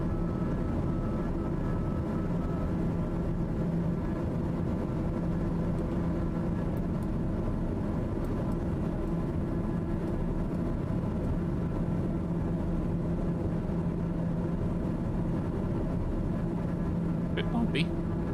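A TBM930 turboprop at climb thrust in a flight simulator drones with a steady, loud tonal hum and a constant cabin rumble, unbroken for the whole stretch.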